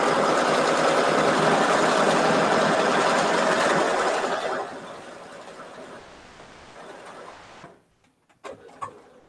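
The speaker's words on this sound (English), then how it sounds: "Sewing on an angle is a challenge." A sewing machine stitches quilt pieces on an angle. It gives a loud, steady mechanical whir for several seconds, then slows and quiets, then stops and is followed by a few soft handling clicks.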